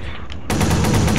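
Sudden burst of rapid automatic gunfire in the video game Watch Dogs, loud and close, cutting in after a quiet moment and continuing as a dense rattling volley.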